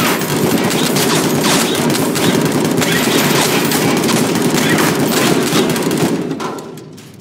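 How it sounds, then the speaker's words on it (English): Rapid, continuous assault rifle fire in the video game People Playground, a dense, loud stream of shots lasting several seconds before tapering off at the end. "I mean an assault rifle. Do a little bit of damage."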